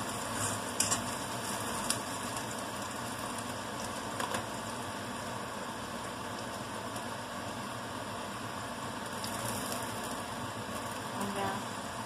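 Ginger garlic paste frying in a pan with already fried onions, a soft steady sizzle close by with occasional stirring scrapes and light clinks, quiet speech under it.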